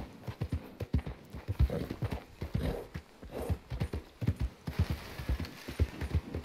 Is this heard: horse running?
yes